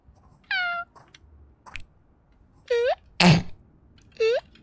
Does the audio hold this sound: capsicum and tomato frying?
no